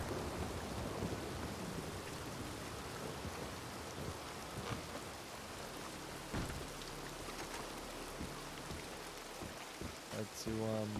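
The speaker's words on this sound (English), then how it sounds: "I'm getting the hell out of this rain." Cold outdoor rain falls steadily in a dense, even wash of patter that fills the whole stretch, with a few sharper drops or knocks standing out near the middle and toward the end.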